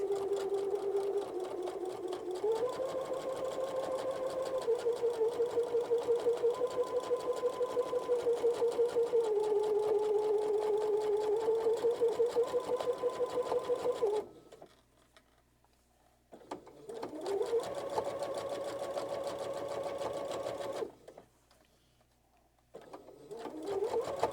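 Sewing machine stitching a composition notebook cover, running in a long continuous hum with slight speed shifts, then stopping twice briefly before resuming, close and moderately loud.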